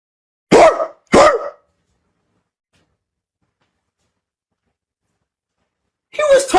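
A man imitates a dog barking: two sharp, close barks in quick succession, a long silence, then a rougher burst of barking at the end.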